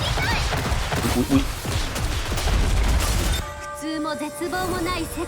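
Gunfire in the mobile shooter game NIKKE during a boss fight against Chatterbox: a dense, rapid fusillade of shots with crashing impacts, loud for about three seconds, then giving way to quieter game sound effects and tones.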